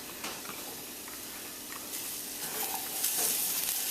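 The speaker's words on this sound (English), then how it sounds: "as soon as you start hearing that sizzle" Close, steady sizzling of green bell pepper and other vegetables frying in a pan, crackling and hissing continuously with light stirring clicks and no one speaking.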